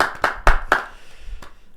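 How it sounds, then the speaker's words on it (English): A few sharp hand claps in a quick loose burst, four or five close together, then one more after a short gap, near and fairly loud with no talk over them. "clap it up, clap it up, clap it up"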